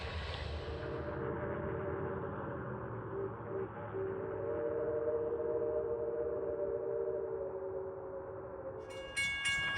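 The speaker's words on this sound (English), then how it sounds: "Man, he's really working with that heavy train, and that is a heavy train." Heavily loaded steam train on the Strasburg Railroad laboring hard, a sustained rumbling chuff and rolling roar with a long tonal whistle-like drone through the middle, and a brief sharp whistle burst at the end.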